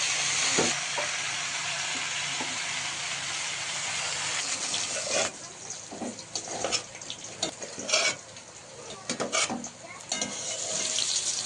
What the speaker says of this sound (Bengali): কিছুটা মাছ ভাজা হয়ে গেছে আর কিছুটা দেওয়া হচ্ছে তেলে আবারও ভাজার জন্য